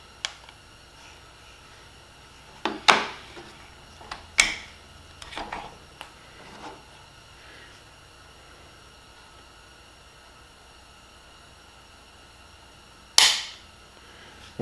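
A Tikka T1x rifle trigger dry-fired on a snap cap in the receiver, with a few sharp, close clicks and snaps spread over a quiet stretch and one more crisp snap near the end.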